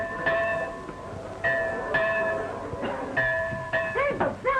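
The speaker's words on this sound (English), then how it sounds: "There's a bell." A bell rings in repeated clanging strikes, roughly five or six metallic tones with lingering overtones, fairly close, under a rumbling background with a warbling tone near the end.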